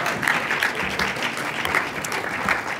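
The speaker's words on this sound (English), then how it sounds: "Let's give them another round of applause." An audience at an educational equity conference applauds the panelists with a steady round of moderately distant clapping that carries on evenly throughout.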